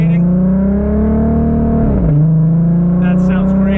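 An Audi RS3 fitted with an aftermarket exhaust accelerates, heard from inside the car as a loud, steady engine drone whose pitch rises, dips briefly at a gear change, then climbs again.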